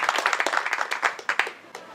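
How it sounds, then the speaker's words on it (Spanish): Audience applause after a comedy show, with brisk, close individual claps forming an uneven rhythm over two seconds, sharp distinct hand slaps rather than a dense roar. "Agradezco un fuerte aplauso para ellos que ellos me han contratado el día de hoy"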